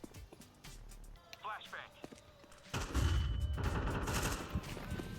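Rapid bursts of gunfire in a tactical shooter video game ring out after a quiet start, growing loud and dense during the second half, with faint talk underneath.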